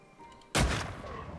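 One sharp, loud gunshot fired at a caribou in a dogsled simulator game, cracking suddenly out of near silence and fading into a short tail.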